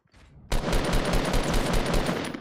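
Rapid SMG fire in Fortnite, a loud sustained burst of closely spaced shots after a brief quieter lead-in, continuous for about two seconds with no speech.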